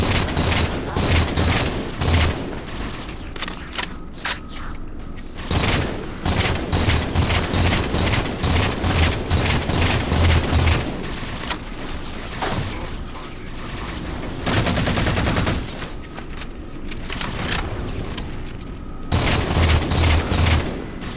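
DMR rifle fire in the Halo 4 video game, repeated loud sharp shots in quick bursts separated by short pauses, mixed with mechanical clatter and dense in-game combat noise.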